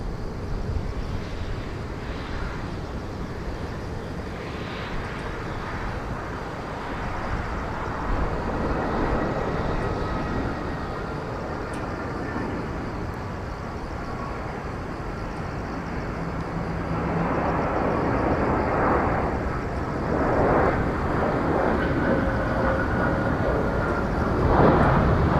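Scoot Boeing 787-9 Dreamliner airplane at Incheon airport, a steady distant jet engine roar that builds gradually and holds as a broad, continuous rumble.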